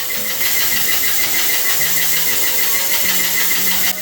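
An airless paint sprayer's motor runs normally with a loud, steady mechanical hum and faint rhythmic pulsing. It holds close and constant, with no voices over it.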